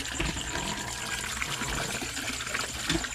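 Water poured by hand, a steady trickling, splashing stream that runs continuously at close range, with no talk over it.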